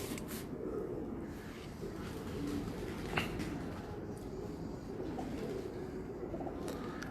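Pigeons on a rooftop loft in Faisalabad coo softly and repeatedly, low rolling calls against a quiet outdoor background with no talking.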